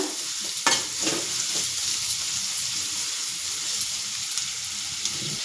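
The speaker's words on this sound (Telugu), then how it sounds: "ముందుగా క్యారెట్ వేసుకోవాలి క్యారెట్ బాగా వేగితే కొంచెం కొంచెం వేగితే అప్పుడు సొరకాయ వేసుకుందామండి" Grated carrot frying in ghee in a pan gives a steady, close sizzle, with a few scraping stirs near the start and a constant hiss throughout, no voices.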